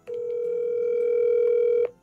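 A telephone dial tone sounds as a friend is phoned, one steady loud continuous tone lasting nearly two seconds before cutting off abruptly, with nothing else heard.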